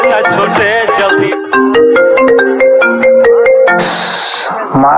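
A mobile phone ringing with a melodic tune for a mother's call: a bright stepped synth melody plays steadily for several seconds, loud and close, with a shift to a brighter burst near the end.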